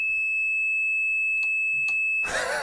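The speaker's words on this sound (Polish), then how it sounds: "Jeśli zwarcie, to piszczy. No, piszczy." An electric scooter beeping from a short circuit in its brake sensor: a continuous high-pitched electronic tone, two short clicks, then a loud burst of rustling handling noise at the end.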